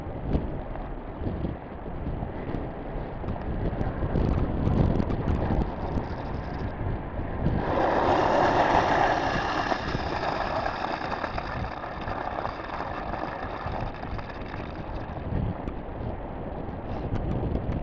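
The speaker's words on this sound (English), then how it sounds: "So we're gonna flush the hydrant and make sure it's clear, got good clean water." A fire hydrant being flushed outdoors, water rushing out in a loud continuous roar over wind buffeting, with the gush intensifying sharply about halfway through and staying strong.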